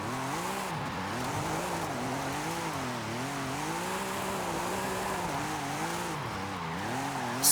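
A tuned car's engine in Forza Horizon 5 running on snow tires, a steady loud drone with rising and falling revs and tire slip, continuous throughout without talk.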